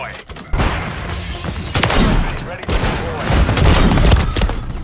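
Loud, sharp gunshots ring out in a first-person shooter, with several sniper rifle cracks separated by short gaps. Game noise and voices run underneath.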